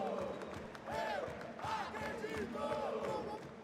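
Crowd noise from a Counter-Strike esports major arena, a dense continuous roar of many voices with swelling cheers and shouts, steady and loud throughout.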